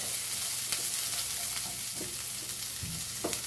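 Chopped onion sautéing in a hot pan for a Goan knol kol (kohlrabi) bhaji, giving a steady close sizzle with occasional stirring scrapes and clinks, no voices.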